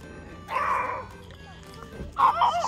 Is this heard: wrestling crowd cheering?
no